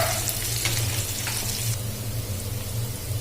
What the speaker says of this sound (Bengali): এখন পেঁয়াজগুলোকে ভালো করে ভেজে নিতে হবে।